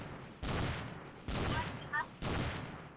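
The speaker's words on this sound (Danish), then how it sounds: "Okay, prøv at stoppe med at skyde." Video game gunfire in bursts, three sharp loud volleys spaced about a second apart, each trailing off, with a brief electronic chirp between them.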